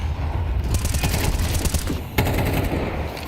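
Dense, rapid gunfire sprays in a Counter-Strike match at a pro tournament, a loud continuous rattle of automatic shots with a sharp burst near the end, all under a steady low background rumble.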